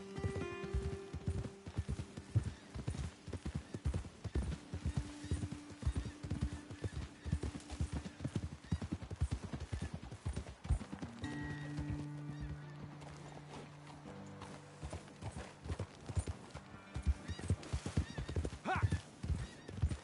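Horses walk with a steady, close clip-clop of hooves, joined by occasional whinnies, while people talk intermittently.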